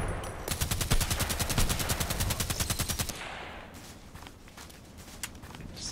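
Rapid automatic gunfire in the shooter game Contract Wars, a fast even rattle of close shots for about three seconds, then a few scattered fainter shots over quieter background.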